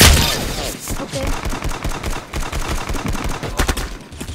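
Rapid gunfire in the Roblox shooter Arsenal, a steady burst of clipped, evenly spaced synthetic shots rattling off at a fast rhythm, loud and close, with a few louder pops near the end.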